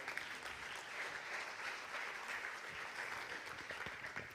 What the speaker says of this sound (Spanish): Sí, por favor, aplaudidle, Rodel.